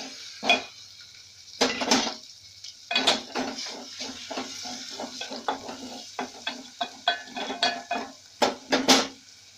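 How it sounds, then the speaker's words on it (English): Beef goes into a cooking pot with a run of close clattering and scraping of utensil against metal, irregular knocks and a faint sizzle, growing busier toward the end, with no speech. "Then we add in our beef."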